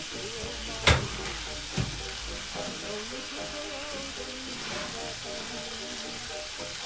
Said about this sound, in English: the bacon is cooking